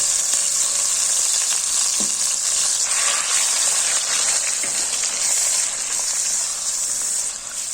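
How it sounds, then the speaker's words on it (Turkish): Steady, loud sizzling and crackling of tomatoes and peppers frying in a hot pot, a continuous hiss with occasional soft stirring clinks. "Ve onları alabildiğince kızartmaya başladım bile."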